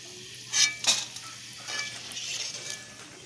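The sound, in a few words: sago frying in hot oil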